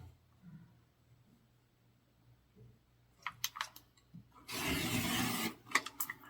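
Quilt fabric is cut in one long 20.5 inch pass, a scraping swipe of about a second, framed by soft clicks and handling noises in a quiet room.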